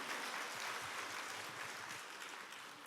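At a People Power Party members' education lecture for the North Chungbuk chapter, the audience applauds. The clapping forms a steady, soft, even wash that fades slightly toward the end.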